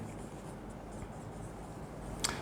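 Chalk or marker scratching on a board while the statement of Snell's law is written in a physics lecture, faint soft strokes over a room hiss, with a small tap near the end.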